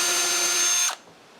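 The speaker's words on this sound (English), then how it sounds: "it's as simple as drilling holes and screwing on the moldings I've made" A power drill whines steadily at high speed boring into wooden window molding, close and loud, then cuts off abruptly to near silence.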